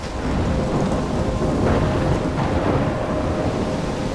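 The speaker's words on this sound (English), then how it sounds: "I'm trapped in a storm?" Thunderstorm in the video game Life Is Strange: heavy rain and wind form a loud, dense roar with low thunder rumbling underneath, continuous from start to end.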